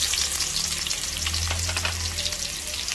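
Garlic and onion fry in hot oil in a pan, a loud, close, continuous sizzle with light crackling and the scrape of stirring throughout.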